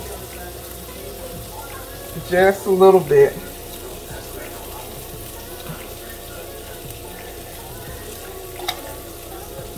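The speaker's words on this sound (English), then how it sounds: "I'm gonna add just a tad bit of water to this" Water poured into a hot cooking pan sets off a steady sizzle and hiss that runs through the whole stretch, with a brief spoken phrase over it near the start.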